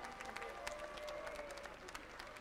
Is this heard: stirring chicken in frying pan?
no